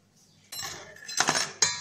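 Vegetable salad tossed in a bowl at home after a pinch of salt goes in, a few soft scrapes followed by a cluster of clinking utensil knocks against the bowl, close and moderately loud with no talking.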